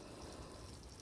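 Water draining from a van's tank through a tap and drain pipe, a steady, faint rushing pour with no break over the short stretch and no talk.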